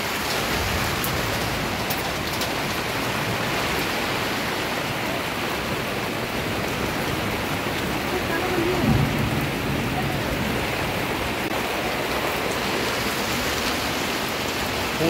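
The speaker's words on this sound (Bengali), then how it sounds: "বৃষ্টির আওয়াজ শুনতে পাচ্ছে তো" Heavy rain from the edge of Cyclone Remal pours steadily as a dense, continuous hiss, with a faint low rumble briefly rising in the middle.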